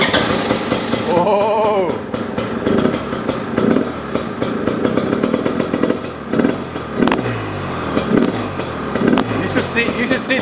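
A Rieju MR 300i fuel-injected dirt bike cranks and fires up, its engine revving in repeated bursts and clattering up close, while someone exclaims and people talk over it.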